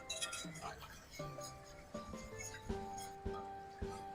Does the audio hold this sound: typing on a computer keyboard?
no